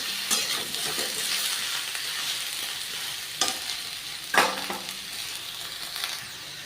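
Mixed summer vegetables with plantain fry in a pan, giving a steady sizzling hiss as they are stirred. A few louder scrapes and knocks of the spoon against the pan stand out over the constant frying.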